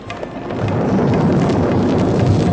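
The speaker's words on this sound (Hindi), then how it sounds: "और वर्षा होने लगी।" Sound effect of a thunderstorm with rain: a dense, steady rumble and hiss of rainfall and low thunder, loud and continuous with no voices.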